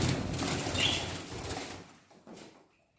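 Canaries flap their wings in a rapid fluttering burst that is close and fairly loud, then thins into fainter flutters before fading out.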